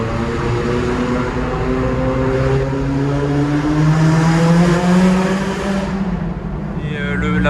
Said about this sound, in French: c'est l'échappement sport de chez MSO